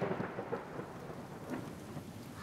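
Steady rain patters over a low, continuous rumble of thunder, fairly quiet and even throughout, with no voices.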